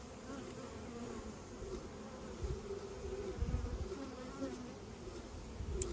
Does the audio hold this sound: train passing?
no